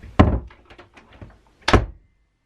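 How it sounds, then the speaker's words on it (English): A shop door in a small business studio opens and closes twice, each swing ending in a loud, close thunk with a short rattle and quieter knocks between, then silence. "The door just keeps opening and closing."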